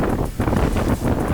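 Strong wind buffeting on the open upper deck of a US Mail Jumper Boat on Lake Geneva, Wisconsin, a loud, gusty roar of wind hitting the microphone, continuous with brief dips, no talking.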